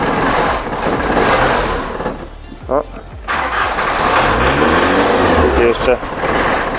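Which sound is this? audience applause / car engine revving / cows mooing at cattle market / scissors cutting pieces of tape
car engine revving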